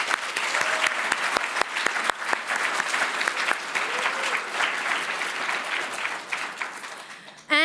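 An audience at a literary awards ceremony applauds the shortlisted authors, with steady, dense clapping throughout that holds at an even level before breaking off abruptly at the end.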